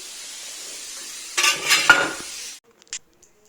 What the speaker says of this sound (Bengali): আরও বেগুনটা তখন ভাজতে থাকুক